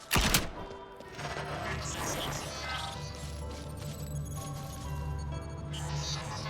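A gun fires once in the video game Wizard With a Gun, a sharp loud blast at the start, followed by lingering rumbling game effects and music.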